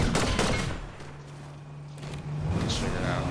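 Bursts of Fortnite Reload gunfire crackle in quick clusters at the start and end, with a quieter lull between and a voice murmuring underneath.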